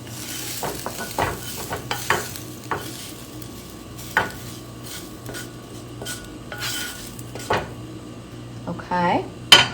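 Utensil stirring food in a hot pan with cranberries, steady sizzle of frying under repeated scraping and clinks of cutlery against cookware, close and fairly loud.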